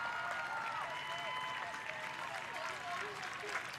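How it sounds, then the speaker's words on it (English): Fans clap steadily throughout at a women's College Cup soccer final between Florida State and BYU as an injured player is carried off the field, sustained applause filling the stadium with voices mixed in. "crowd applauds"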